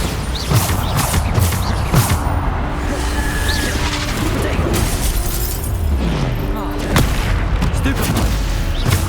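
Bombarda blasting spell cast repeatedly in the game Hogwarts Legacy, heavy booming blasts and crackling impacts amid dense battle noise, loud and continuous, with a voice calling out over it.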